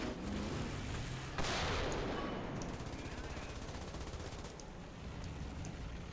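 Sustained vehicle gunfire in War Thunder, a long continuous roar of rapid shots with a sharp blast partway through, steady and loud from start to finish.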